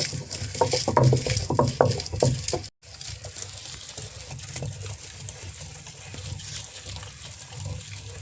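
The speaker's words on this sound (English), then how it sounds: "Now grinding." Homemade kallukuttu chutney ingredients being wet-ground with a little water, giving a steady, close, sloshing churn that cuts out for a brief moment before running on evenly.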